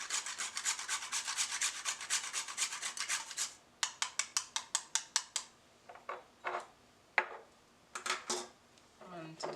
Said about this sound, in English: And I have 1 fresh nutmeg that I'm going to grate in here.